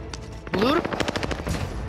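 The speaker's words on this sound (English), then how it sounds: "Damn, this LMG is crazy." Light machine gun fire in Call of Duty Warzone on Rebirth Island, rapid rattling bursts mixed with game effects and a rising electronic tone, moderately loud in the game mix.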